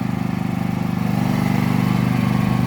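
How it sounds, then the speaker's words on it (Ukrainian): Mini loader engine working while paving tiles are laid, a loud, steady mid-pitched drone with a rapid pulsing throb that holds close and constant throughout. "Хто на цього погрузчику працює, дивіться, як повертає, як він уходить, танцює"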